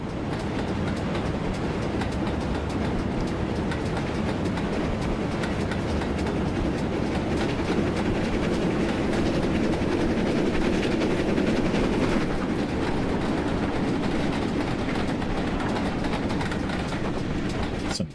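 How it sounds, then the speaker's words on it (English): An approaching train in the Train Sim Classic game, a continuous loud rumble and rail clatter that swells slightly mid-way, with no talking. "Definitely hear another train coming."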